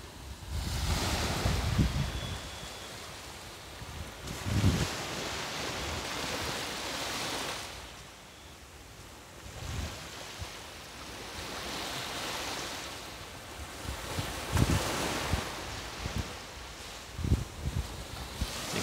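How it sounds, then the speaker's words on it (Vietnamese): Sea waves wash and lap onto the shore at Bai Sau beach in Vung Tau on a morning under gusty wind, with steady surf broken by louder surges every few seconds. "Biển sáng hôm nay sóng vỗ rì rào."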